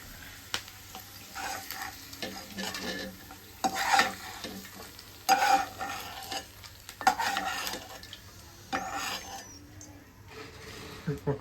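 Ingredients for white sauce pasta frying in a pan, a soft sizzle under intermittent scraping and clinking of a spoon stirring against the pan, with a voice talking at times in the background.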